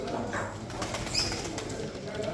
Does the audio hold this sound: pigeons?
yes